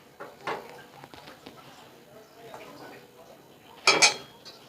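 Fried rice being mixed with cashews, raisins, carrots and peas, a spoon scraping and clinking against the pan in scattered strokes, with a sharp, loud metallic clatter near the end.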